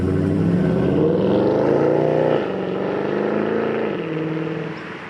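A Mercedes C63 AMG V8 roars loudly through its exhaust, the engine note rising and falling as it revs and pulls away, with the sound easing off toward the end.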